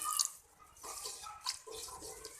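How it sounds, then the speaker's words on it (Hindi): Water is splashed onto dry spices frying in a pan for beef paya, producing a quiet, crackling sizzle with a few sharp spits, soft and close. "थोड़ा सा पानी का छींटा लगाऊंगी ताकि ड्राई मसालों के फ्लेवर इन्हेंस हो जाए।"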